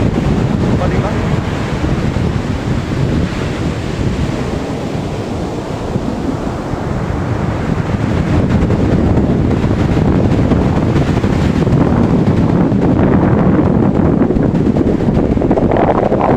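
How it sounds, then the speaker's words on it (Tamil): Storm-driven sea waves and strong wind at Besant Nagar beach, a loud continuous roar of surf with gusty wind buffeting the microphone throughout. "கடல் தாங்க. தெரியுதா?"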